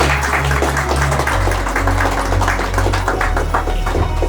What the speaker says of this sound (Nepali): मण्डलीले चाहिँ ताली बजाइदिनु।